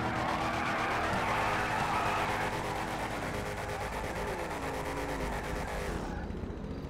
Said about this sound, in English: Do your burnouts at the lines?